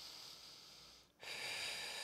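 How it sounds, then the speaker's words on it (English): A single breath released during a core exercise, heard as a soft, close airy rush that fades to a brief pause, then a louder, sustained breathy hiss. "Breathing your fullest breath out."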